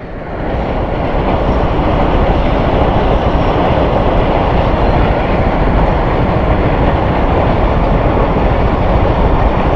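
A train crosses a bridge near Quaidabad Interchange on the Malir Expressway with a loud, continuous rumbling roar of rolling wagons, steady and close for the whole stretch, with no voices over it.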